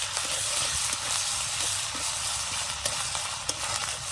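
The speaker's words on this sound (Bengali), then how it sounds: "সববার একসঙ্গে মশলাটা আমি কষাবো" Garlic, ginger and green chilli paste frying with spices for a snail curry, a loud steady sizzle filling the whole stretch with occasional soft scrapes of a spatula, no voices.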